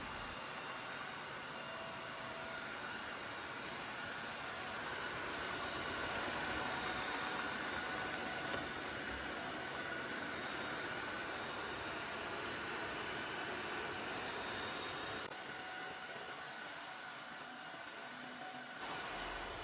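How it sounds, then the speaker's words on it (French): Tineco S5 wet-dry vacuum cleaner running steadily indoors while picking up dropped food and spills from the floor, a continuous loud whine and rushing hum with no pauses, slight shifts in pitch near the end. "je vais aspirer un petit peu les catastrophes que j'ai laissées par terre"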